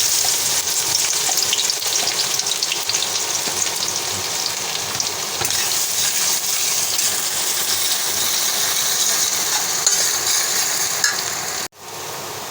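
Chopped onions frying in a pan, a dense steady hiss and crackle of sizzling oil with faint stirring scrapes, close and continuous, stopping abruptly near the end.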